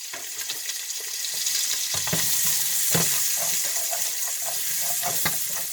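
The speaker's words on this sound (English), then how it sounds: "Put this chopped onion in." Chopped onion sizzles in a frying pan with a steady, close hiss and crackle, broken by a few soft scraping and clattering knocks.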